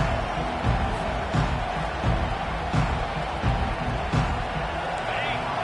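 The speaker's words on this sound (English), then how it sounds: "This crowd bringing an ear-splitting welcome to their visitors." A packed stadium crowd at a college football game roars loudly and continuously, a dense wall of noise with scattered claps and thumps, a commentator speaking over it.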